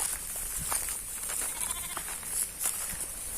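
Goats bleat repeatedly on a farm, several animals calling near and far in overlapping cries amid steady background noise, with faint sheep-like bleats mixed in.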